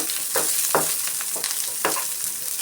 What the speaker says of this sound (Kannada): ಥರ ಕೆಂಪಿಗೆ ಫ್ರೈ ಮಾಡ್ಕೊಳ್ಳೋಣ.